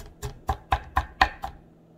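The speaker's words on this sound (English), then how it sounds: "Now this damn chopping." A knife chops food on a cutting board in a home kitchen, six crisp, evenly spaced strokes about a quarter second apart, close and clear with no talking.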